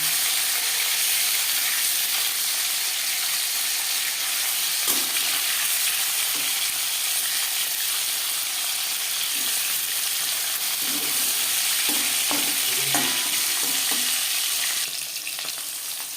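Pieces of aar fish and fish heads sizzle in hot oil while being stirred and turned, a continuous close frying hiss broken by scattered spatters and utensil scrapes, with no voices.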